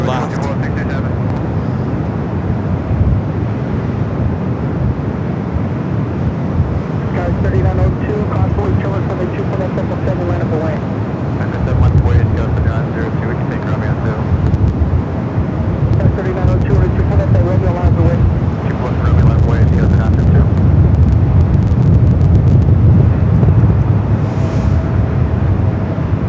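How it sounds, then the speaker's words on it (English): An airliner bound for Kona takes off from runway 24 left at LAX in gusty wind, a broad, steady roar with wind buffeting the microphone, building slightly toward the end, with a voice talking over it. "the flight to Kona now rolling down, 24 left."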